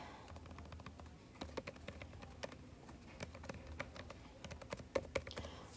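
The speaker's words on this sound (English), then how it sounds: "the first thing I'm going to do here is I'm going to type" Typing on a computer keyboard while writing in Outlook, a steady patter of close, crisp key clicks with irregular rhythm and occasional louder strokes, heard alone with no talk.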